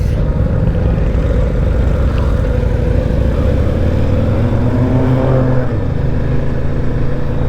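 A 2026 Harley-Davidson Street Glide 135 motorcycle on a test ride gives a loud, steady low engine rumble with wind rush, holding an even drone throughout with a slight shift in pitch near the end and no talking.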